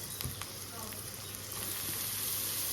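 Bitter greens (tita shak) fry in a pan with a steady broadband sizzle that builds slightly louder toward the end, a few faint clicks of stirring near the start, no talk.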